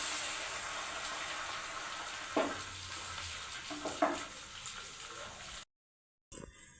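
Beaten egg mixed with spices frying as an omelette in a kadai, a steady close sizzle with a couple of scraping stirs before a brief cut to silence.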